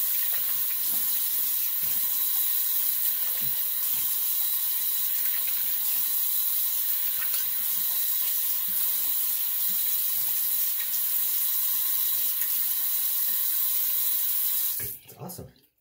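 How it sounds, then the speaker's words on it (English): Tap water running steadily into a sink for a cold rinse after a wet shave, a continuous close hiss and splash that stops abruptly near the end. No one speaks. "Cold water rinse."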